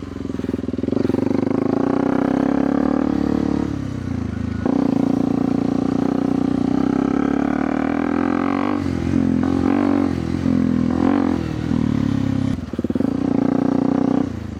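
Mini dirt bike engine held on steady throttle for most of the clip, loud and close, with a brief dip and a few rattling clatters along the way.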